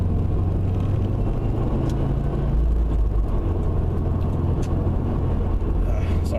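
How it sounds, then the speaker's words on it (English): A Subaru car engine accelerating to change lanes in traffic, heard from inside as a loud, continuous low rumble that swells slightly partway through. "It's just the engine sound is so great."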